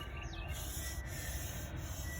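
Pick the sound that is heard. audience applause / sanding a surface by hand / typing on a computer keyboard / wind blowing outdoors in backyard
sanding a surface by hand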